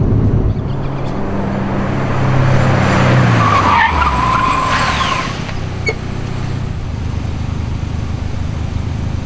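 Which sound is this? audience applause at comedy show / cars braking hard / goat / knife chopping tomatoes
cars braking hard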